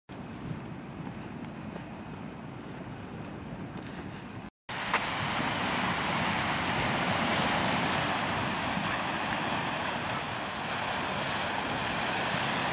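Steady wash of gentle, calm sea waves on a cold day on Spain's southern coast, with wind buffeting the microphone, continuous and fairly loud, briefly cut out for a moment before resuming.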